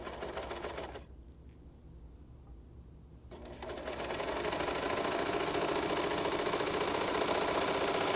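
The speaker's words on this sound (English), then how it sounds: "I think I'm not supposed to talk while the sewing machine's going." A sewing machine runs in steady stitching bursts, pausing briefly before starting again and running continuously at a fast, even rhythm.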